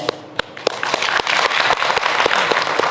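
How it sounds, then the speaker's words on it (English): An audience of students at a college annual function claps, with sharp individual claps popping out at first and then thickening into steadier group applause under a hall's reverberant murmur. "Clap for yourself"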